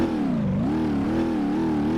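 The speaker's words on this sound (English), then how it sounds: "as you can probably hear by the sound of the engine" Older-version BeamNG.drive car engine, modded Bruckell BIGran, droning loudly and steadily with a harmonic tone that dips and then wavers with gentle rev changes; no talking.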